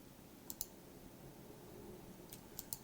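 Two pairs of quick, faint computer mouse clicks, one pair early and one near the end, over a quiet room background.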